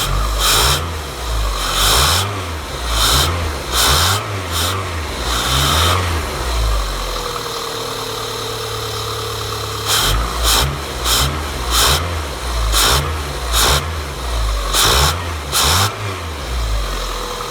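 A Metro car engine with its airbox removed revs repeatedly in sharp bursts with a raw, intake-heavy roar, then settles to a steady idle for a few seconds before revving again.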